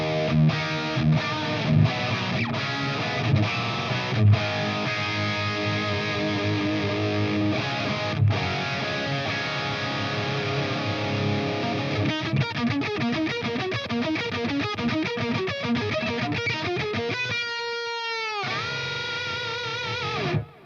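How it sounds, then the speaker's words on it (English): An electric guitar plays through an amp modeled on a Line 6 Helix with chorus, tape delay and spring reverb, sustained chords giving way to quick picked runs with echoing repeats, then a brief swelling bend near the end. "so you can just hear the amp with this such special sauce. It's got chorus, tape delay,"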